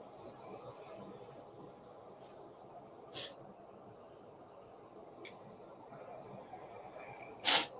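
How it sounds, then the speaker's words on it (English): A few short, sharp sniffles break a quiet background, spaced several seconds apart, with the last one loudest and closest. "Now I got the sniffles today."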